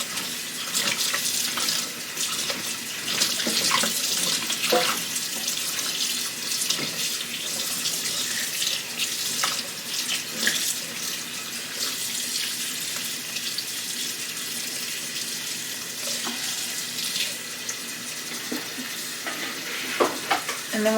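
Okra being scrubbed under a running kitchen tap: a steady rush of water with irregular splashes and rubbing sounds close by, continuing throughout with no voices.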